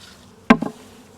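A honeybee buzzes sharply and close for a fraction of a second at an agitated hive with a drone-laying worker, a brief loud burst and a fainter echo over a low background hum.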